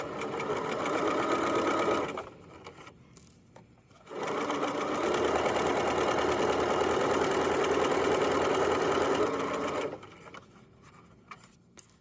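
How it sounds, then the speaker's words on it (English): A sewing machine stitches a seam on fabric casing for a drawstring backpack, running steadily and close in two runs: a short burst, a pause of about two seconds, then a longer continuous stretch before stopping. "sew all the way around until I'm back on the same stitch again, and then I'll back stitch"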